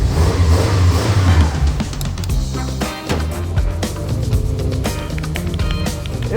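A car engine revs hard, roaring loudly and rising in pitch as it accelerates, with a brief dip partway through before climbing again.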